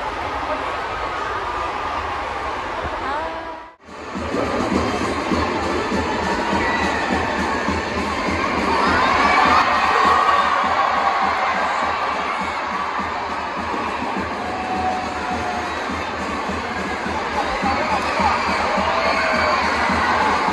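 Large festive crowd at a Christmas celebration: a constant roar of chatter, children's shouts and cheering, cut by a brief dropout early on before the noisy din resumes and holds steady.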